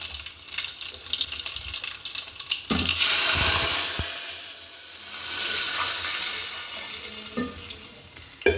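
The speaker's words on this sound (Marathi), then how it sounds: "भरपूर अशी मोहरी भरपूर असे जिरे हे आता एकदम कडकडीत त्याला टाकून घेते मी हे बघा एकदम अशी चांगली तडतडली ना" Mustard and cumin seeds spluttering in very hot oil for a tempering, a close, loud crackle and sizzle that swells into a hissing rush and then settles again, with no voices.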